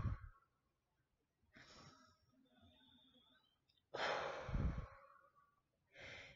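Forceful exhales during a meditation breathing exercise come as three separate breathy bursts, close and fairly soft, with quiet pauses between them.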